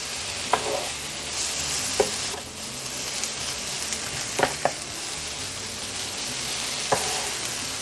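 Carne asada sizzles steadily in a hot pan alongside onions and poblano pepper strips, with a few sharp scrapes and clacks as the meat is flipped and turned over a constant frying hiss.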